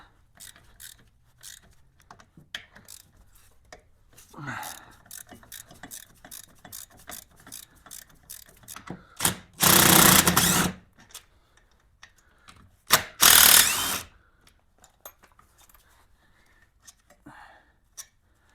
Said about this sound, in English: Then we've got a 14mm on these two brake caliper bolts.